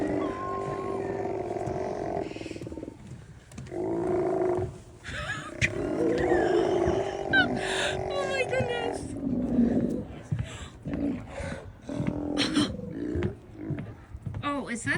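Sea lions give deep, rumbling, motorboat-like calls and growls at close range, coming in repeated bursts while people talk over them.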